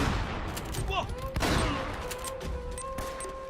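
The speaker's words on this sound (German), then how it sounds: "Wir probieren es jetzt mal mit der Schrotflinte." A loud shotgun blast booms about midway in the video game Uncharted 1, with fainter gunfire bursts scattered around it and steady background game noise with thin whistling tones.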